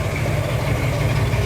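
Car engine with a Comp XD268 cam and Flowmaster 40 mufflers dumped before the axle, running at fast idle, a steady low throbbing rumble, loud and close, with no talk over it.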